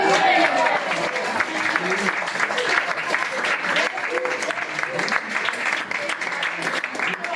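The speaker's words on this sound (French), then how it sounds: "Un gros applaudissement pour Julien Royer." A room of attendees at a May 8 commemoration gives a warm round of applause, dense steady clapping close and loud throughout with a few voices mixed in.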